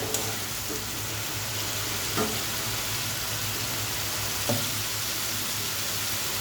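Masala for chicken curry sizzles and bubbles in a pan after a splash of water, a steady quiet crackle with occasional soft stirring knocks.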